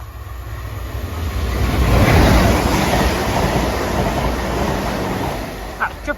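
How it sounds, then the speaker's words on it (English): South Western Railway passenger train from London Waterloo to Weymouth passing through Upwey station, a loud rushing roar that swells and fades with some rail clatter. "Passing through now is a Southwestern Railway service from London Waterloo to Weymouth."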